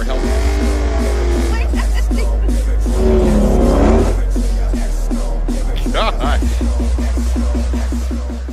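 A 1,000-horsepower Dodge Hellcat engine idles with a deep, lumpy rumble, revving up briefly midway before settling back into a loud, throbbing idle.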